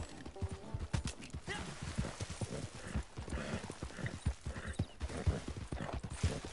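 Horse hooves clip-clop in a steady run across the ground in Red Dead Online, close and continuous, with a brief whinny mixed in.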